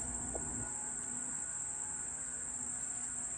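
Insects chirp and buzz outdoors on a warm morning, a steady high-pitched drone holding faintly and continuously throughout.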